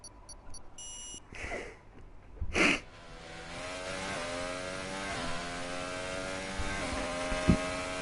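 An F1 car from the F1 2018 video game runs at full revs down the DRS straight at Monza. A loud, steady, high-pitched engine drone rises in pitch after a few short electronic beeps at the start.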